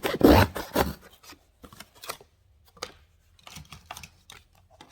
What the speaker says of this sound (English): I am going to use this little knife box cutter that's also linked. I'm just going to cut this box in half again.